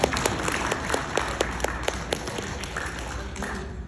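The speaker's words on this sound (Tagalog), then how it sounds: "Wala bang palakpak dyan?" Audience applause at a graduation ceremony for a St. Paul University doctoral batch, a steady bed of many hands clapping with sharp individual claps standing out, loud and close throughout.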